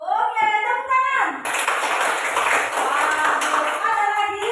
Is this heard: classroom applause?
yes